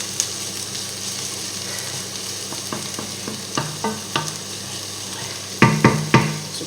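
Onions fry in a pan with a steady soft sizzle, and a series of sharp utensil taps and scrapes lands on top, growing louder toward the end.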